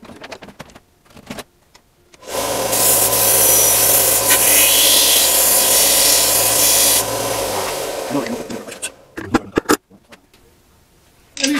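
A power sander grinds down a workpiece in a workshop, a loud steady whir running for about six seconds, bracketed by brief handling knocks and clatter before and after.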